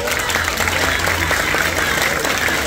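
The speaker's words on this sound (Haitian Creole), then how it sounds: "je vous demande de bien vouloir les applaudir" An audience at a municipal event in Cap-Haïtien breaks into sustained, dense applause, a close crowd of many hands clapping steadily for the whole stretch with a faint murmur underneath.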